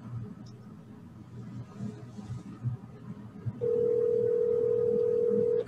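A telephone call rings out while waiting for an answer, a steady electronic ringback tone starting partway through and holding loud and unbroken over faint background noise.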